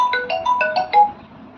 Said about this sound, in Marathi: एक्सक्यूज मी फोन आला